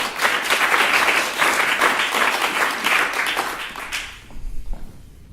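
A crowd at an EPWN innovation evening at HUB Zurich applauds a startup speaker. Steady, full clapping runs for about four seconds before dying away into a few soft thumps and shuffles.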